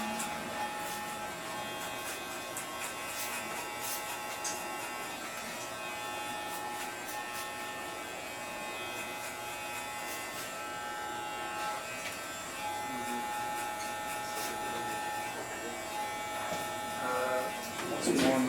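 Electric hair clippers buzz steadily while cutting a low taper fade in a barbershop, a close, continuous whine with the pitch shifting slightly as they work through hair, and a few faint clicks near the end.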